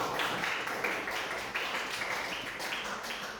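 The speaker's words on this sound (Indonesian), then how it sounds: "beri tepuk tangan" Applause in a classroom, a dense patter of clapping hands from a group of pupils, steady and fairly even across the few seconds, moderately loud with no talk over it.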